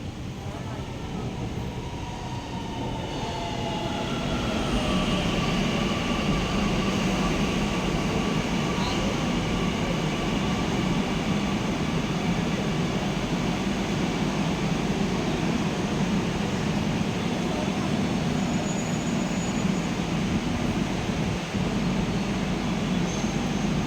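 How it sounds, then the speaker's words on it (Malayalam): A metro train arriving at speed at a station: a loud, continuous rumbling roar that swells over the first few seconds and then holds steady, with faint tonal whine above the broad noise. "അപ്പോൾ നമുക്ക് കയറാനുള്ള മെട്രോ അത് വരുന്നിട്ടോ,"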